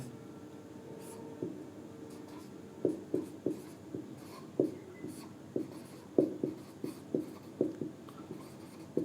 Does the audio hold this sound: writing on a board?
yes